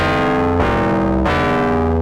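Distorted FM synth bass tone, sustained and loud with a buzzy harmonic-rich timbre, shifting pitch at about 0.6 s and again around 1.25 s, no voices present.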